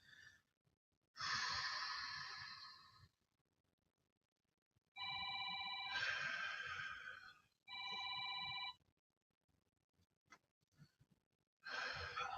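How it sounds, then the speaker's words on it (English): A mobile phone ringtone plays during a full-body fitness class, bursts of a bright melodic tone repeating several times with pauses between them, faint and slightly distant. "Sorry, forgot to silence my phone this morning."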